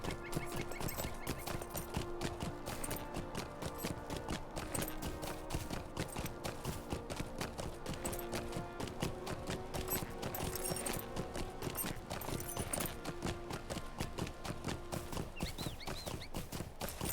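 Steady clip-clop of horse hooves trotting at an even rhythm in Lord of the Rings Online, over a bed of continuous game music, close and fairly loud throughout.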